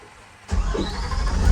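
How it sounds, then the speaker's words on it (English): School bus diesel engine cranking and catching after a brief quiet moment, then settling into a loud, steady rumble close by. "Now I'm going to start the bus"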